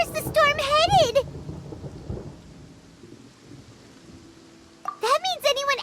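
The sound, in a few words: thunderstorm with rain from Genshin Impact video game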